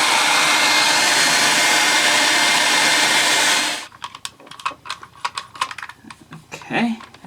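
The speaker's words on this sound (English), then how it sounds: "That means using the hairdryer and getting this decal off." A hair dryer blows loud and steady up close to heat a decal off a refurbished OmniBot 2000 robot, then cuts off, leaving scattered clicks and handling noises.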